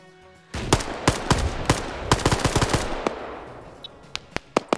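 Loud automatic gunfire in a Russia-versus-Britain military shooter game, long rapid bursts followed by scattered single sharp shots, close and dominant with no voices.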